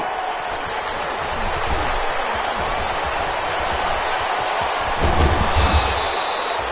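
Steady crowd applause and cheering at an American football game fill the space, a broad continuous roar with a brief louder swell near the end.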